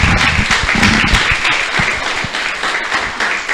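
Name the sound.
congregation applause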